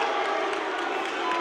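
Gymnasium crowd at a high school boys basketball game, Legacy vs. Broomfield, murmuring and booing in displeasure at a referee's call, a steady broad roar of many voices with no clear individual speech.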